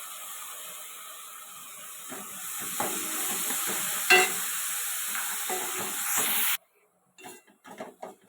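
Finely chopped tomatoes fry in a pan for egg roast, giving a steady close sizzle with scraping stirs and a brief clink, before it cuts to a few scattered knocks.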